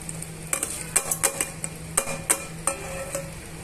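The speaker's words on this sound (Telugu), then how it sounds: "వేసుకున్న తర్వాత పచ్చడిలో మిక్స్ చేసేసుకోవాలండి ఈ తాలింపుని" A spoon scrapes and clinks against a pot in irregular strokes, mixing fried tempering into gongura chutney, close and fairly quiet, over a faint background hum.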